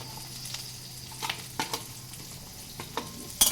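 Soft sizzling of curry leaves and green chilli pieces dropped into hot oil for tempering mango dal, with a few sharp clatters of a spoon stirring in the pan.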